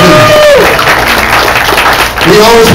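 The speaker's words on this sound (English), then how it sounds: "Give them a round of applause." Applause for the waiting staff at a party, a loud crowd clapping and cheering with a voice talking over it at the start and again near the end.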